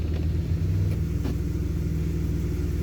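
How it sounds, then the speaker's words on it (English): A car with roughly 249,800 on the odometer and recently changed spark plugs idles at about 800 RPM, giving a steady low rumbling hum heard up close with no talk. "now the RPM is on like 800-ish idling"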